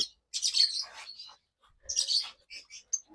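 Lovebirds chirping, two females together in a nest box: two bursts of sharp, bright tweets and chatter, each about a second long, followed by a few short separate chirps, close and fairly loud with no talk.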